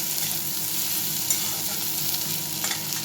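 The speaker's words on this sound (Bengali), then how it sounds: "পেঁয়াজটা ভাজা ভাজা হোক আর রসুনটা ভাজা হলেই" Onion and garlic fry in a small amount of oil, giving a steady, close sizzle with light stirring scrapes throughout and no voices.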